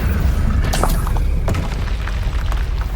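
In the Hogwarts Legacy video game, an Incendio spell goes off in a loud, rumbling fiery burst, a sustained booming roar with crackling pops layered over it, close and heavy from start to end.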